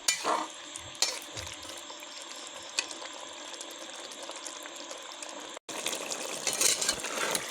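Duck meat being stirred and seared in a pan as it releases its juices: a dense, continuous sizzle with rattling scrapes of the spoon, broken by one brief dropout before the frying resumes.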